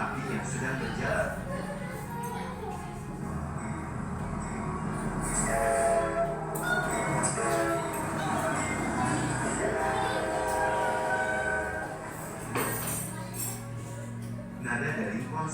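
A train rumbles along steadily, with rhythmic clatter and a brief horn-like tone near the end, fairly loud and continuous.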